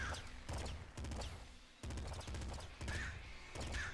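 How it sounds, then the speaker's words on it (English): Burst rifle fire in the game Nuclear Throne, heard as several quick bursts of sharp electronic shots spread across a few seconds, loud and close, with other game effects mixed in. "We got a burst rifle."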